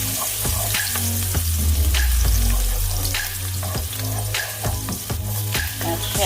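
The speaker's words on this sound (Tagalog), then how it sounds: "gigisa na natin yung bawang para sa sinangag" Garlic sautéing in oil in a pan for sinangag (garlic fried rice), a loud close sizzle with a steady crackle and repeated scraping stirs running throughout.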